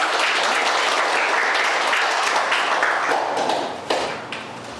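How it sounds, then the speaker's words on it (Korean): Church congregation applauding, dense steady clapping from many hands filling the room, holding loud and even before tapering off near the end. "다시 한번 박수로 환영합니다."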